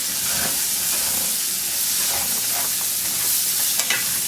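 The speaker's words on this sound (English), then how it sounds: "I'm going to stir this." Chopped fennel sautéing in a pan, a steady dense hiss of frying with faint intermittent stirring scrapes underneath, close and even throughout, no speech.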